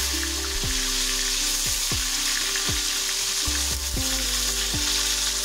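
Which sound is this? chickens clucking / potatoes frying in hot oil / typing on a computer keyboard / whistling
potatoes frying in hot oil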